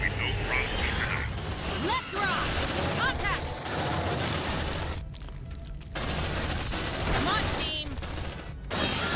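Repeated shotgun blasts in Aliens Dark Descent amid a busy, loud combat mix with mechanical clatter, firing in bursts broken by brief lulls, with voices speaking over it.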